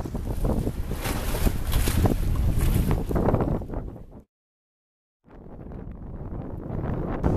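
A boat under way heading south across Long Island Sound, with steady wind and water rush that breaks off into a short silence before resuming.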